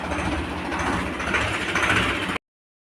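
A tractor engine runs at close range, a steady low rumble with a slight knocking throb that holds for about two seconds, then cuts off.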